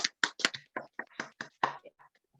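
A small group gives scattered applause at a business group meeting, about a dozen separate, crisp claps close by that thin out and fade toward the end.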